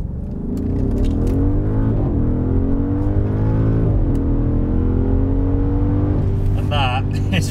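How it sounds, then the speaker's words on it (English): A car set to dynamic mode accelerates hard on a French motorway, its engine note climbing steadily through several gear changes with rising whine, loud and close from inside the cabin. "let's get the car in dynamic mode. And now's probably an ample opportunity to show you just how fast this car is."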